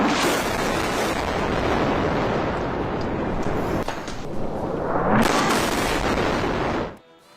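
Explosions during night fighting over Gaza, with flares lighting the sky, come through as a loud, continuous rumbling roar with dense blasts. The noise swells again toward the end, then cuts off sharply.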